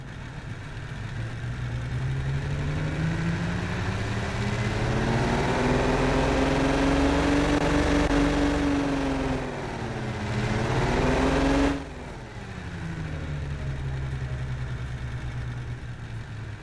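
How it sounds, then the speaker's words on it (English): A low-revving aircraft-style engine fitted to a car idles steadily in BeamNG, a smooth deep drone that swells in pitch and fades back, with a brief blip and sharp drop near the end; no talking. "I really like these low revving aircraft engines. They sound real nice, real smooth."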